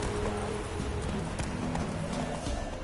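Hooves clip-clop in a quick, steady rhythm as a horse gallops in The Witcher 3, fairly close and moderately loud over faint game ambience.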